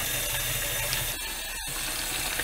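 Tap water runs steadily into a kitchen sink as it fills, a constant close rushing splash with a brief dip partway through and no talking.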